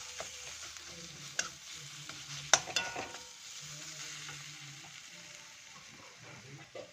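Egg curry masala being stir-fried in a pan, a soft sizzle under faint scraping and stirring clinks, quiet and close.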